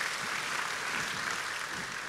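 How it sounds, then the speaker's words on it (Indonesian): A church congregation clapping together, a dense, even wash of applause that holds at the same loudness throughout. "Beri tepuk tangan yang meriah buat Tuhan."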